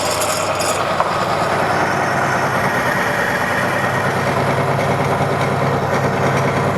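A vehicle engine idles steadily and loudly at close range, with an even rumbling drone and no change in pace, heard alone without talk.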